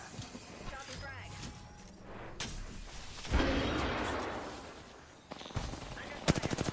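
Gunfire in the Apex Legends battle royale game comes as scattered shots and a loud burst, ending in a rapid machine-gun rattle. In-game voices talk over it.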